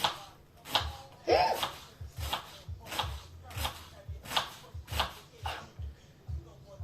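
A knife chops leeks on a cutting board in a steady run of about ten sharp, close thuds at an even rhythm, with a brief squeak partway through.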